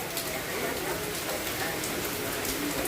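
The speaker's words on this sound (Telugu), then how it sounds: "సాయంత్రం అయ్యేసరికి ఫుల్ వర్షం" Heavy evening rain falls steadily, a dense continuous hiss filling the scene at an even, moderate loudness for the whole stretch, with no voices over it.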